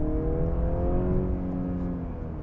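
A 2022 Mercedes-Benz C300 sedan driving in sport mode, its engine giving a steady, full drone with tonal harmonics that hold and drift slightly, heard from inside the car with no talking.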